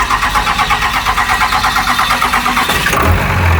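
A Cummins diesel engine in a wrecked truck cranks with a steady rapid pulsing and then catches near the end, settling into a rough, loud running note close by.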